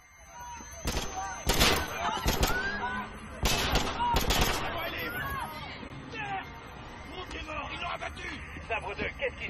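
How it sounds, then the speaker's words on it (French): Gunfire erupts at Piccadilly Circus in London: several sharp, loud shots crack in quick clusters, then fade into scattered reports over crowd noise and voices. "Il y a eu une détonation à Piccadilly Circus. Des coups de feu, plusieurs agents touchés."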